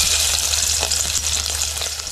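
Finely chopped garlic fries in hot oil for an eggplant, drumstick and potato aamti, a steady close sizzle with faint crackles and no talking.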